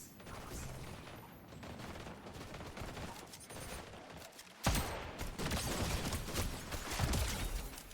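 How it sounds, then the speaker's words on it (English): Fortnite gunfire from other players crackles in rapid bursts, fainter at first and then louder and denser after a sharp volley partway through. "Oh, you guys are shooting at me."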